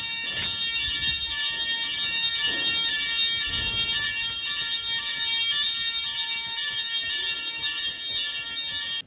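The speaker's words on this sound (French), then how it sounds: "comme vous avez pu le voir, c'était l'alarme incendie" A building fire alarm rings continuously at high pitch, loud and unbroken from start to finish, with faint low rumbles and movement underneath and no talk.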